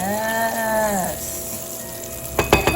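Food sizzles steadily in a hot frying pan for a few seconds, a broad crackling hiss that starts under a brief tonal sound and ends with a few louder pops and spatters.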